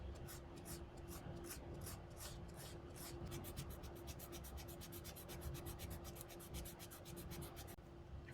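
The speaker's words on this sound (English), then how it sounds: "If we keep sanding down, we'll change the body shape." A small diecast Hot Wheels Honda Civic body is sanded by hand in steady rhythmic rasping strokes, slower at first then speeding into rapid even scrubbing, close and quiet with no talking.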